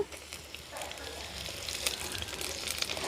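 Chopped onion sizzling in hot oil with curry leaves in a pan, a steady bright crackle that builds slightly, with faint stirring clicks and no talk.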